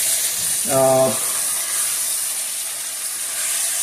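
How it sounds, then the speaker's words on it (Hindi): Onion fries in a pan for chicken korma, giving a bright, even hiss of sizzling oil that holds steady throughout, with a short voiced hum near the start. "और इसको अच्छी तरह जो है वो फ्राई करते हैं।"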